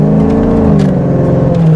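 A Ford Mustang GT engine revs up close and loud in a brief, throaty burst with a rising whir and no voices.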